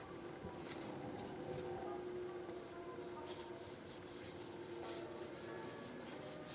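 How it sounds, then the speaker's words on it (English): A paintbrush scrubbed back and forth on paper during a frog and dragonfly painting, giving a soft, steady rubbing and scratching with quicker bristly strokes later on, faint and close with no talk. "And just scrub your brush back and forth."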